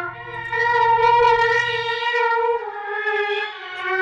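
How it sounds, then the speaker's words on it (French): A Kilohearts synthesizer in Reason 10.4 is put through a distortion effect and plays a sustained, buzzy, harmonically dense tone with a brief low rumble at the start. It is loud and steady and stands alone with no talk. "Ensuite, je vais aller mettre de la distorsion."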